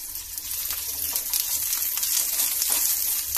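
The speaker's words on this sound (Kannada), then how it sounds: "ಎಣ್ಣೆಲಿ ಚೆನ್ನಾಗಿ ಫ್ರೈ ಮಾಡ್ಕೊಳ್ಬೇಕು" Onion and green chilli fry in a spoonful of hot oil in a pan, giving a loud, steady sizzle with a bright hiss and soft crackles throughout.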